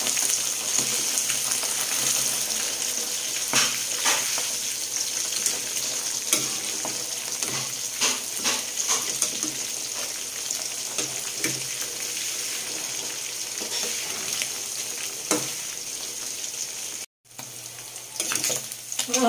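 Espada fish frying in a pan, a steady close sizzle and crackle of hot oil running throughout with occasional stirring clicks, one brief dropout near the end.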